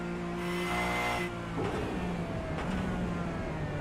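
Porsche Cup race car in the iRacing sim at Mosport, its engine note held at steady high revs and then dropping off sharply as the driver brakes for a corner, followed by lower rumbling.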